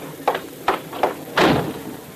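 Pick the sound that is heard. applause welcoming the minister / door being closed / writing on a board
door being closed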